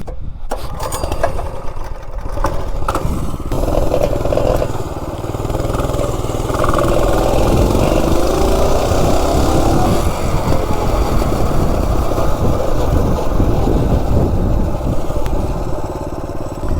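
A CT200-U minibike engine running on Coleman camping fuel during a 0 to 30 speed run, loud and close, with a rough buzzing roar that rises steadily as it accelerates after a few sputters at the start.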